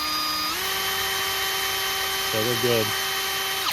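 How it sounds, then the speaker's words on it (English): A power drill whines steadily while spinning a valve from a Toro 22-inch Recycler lawn mower engine, its pitch rising briefly after starting, with someone talking over the constant hum. "I just chucked it in a drill and turned it"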